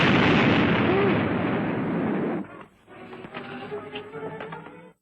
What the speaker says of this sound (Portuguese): Deixa eu jogar uma bomba aqui dentro